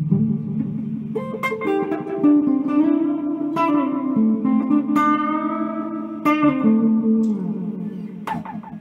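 A guitar runs through an MK 333 analog-tape-style echo box, its repeats cranked until the effect self-oscillates. Sustained, gliding, distorted feedback tones swell and shift pitch continuously, loud and close, with echoed note attacks throughout.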